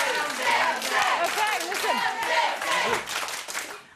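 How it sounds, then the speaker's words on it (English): Wife and friends clap in a TV chat show studio after a guilty verdict, a short burst of steady applause mixed with cheering and lively voices throughout. "His wife and friends clap their success."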